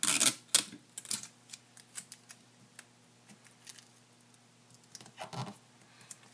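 Adhesive tape is pulled and pressed onto the handle of an origami paper Easter basket, a burst of tearing and crinkling at the start followed by soft scattered clicks and rustles close by.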